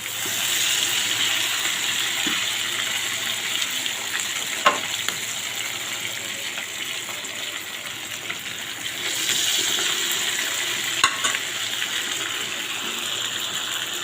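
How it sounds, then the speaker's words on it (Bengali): Chicken pieces fry in mustard oil in a frying pan, giving a steady, dense sizzle that runs the whole time, with a few soft clicks and brief swells in intensity partway through. "ফ্রাই প্যানে সরিষার তেলে ভাজবো মাংসগুলি একটু একটু করে দিয়ে দিলাম"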